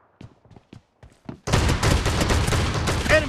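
A handful of sharp, isolated cracks sound first, then a dense, loud burst of continuous gunfire follows in a PUBG Mobile shotgun match.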